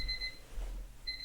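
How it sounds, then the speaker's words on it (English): An alarm clock beeps in the morning, with thin electronic tones sounding at the start and again near the end around a short gap, steady and fairly soft indoors. "There goes my alarm."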